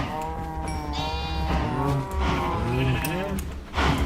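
Many cows in Minecraft bleat and moo in overlapping, drawn-out calls that rise and fall, close and fairly loud, with a steady low rumble beneath.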